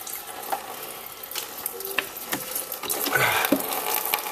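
Coolant pours and splashes steadily out of a Lumina engine's radiator as a continuous wet, hissy trickle with small irregular spatters, moderately close and with no talking.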